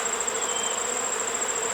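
Honeybees buzz in a thick, constant hum around an opened hive during an inspection, close and loud, with a high steady whine riding above the swarm and no voices.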